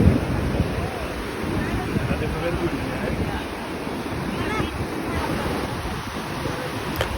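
Ocean waves wash steadily onto Hikkaduwa beach with a constant surf roar. Wind buffets the microphone while someone walks along the shore.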